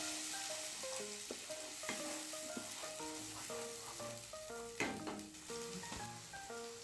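A ground tomato and onion mixture fries in a pan while a spoon stirs it, with a sizzle under repeated scraping and clinking, close and fairly quiet.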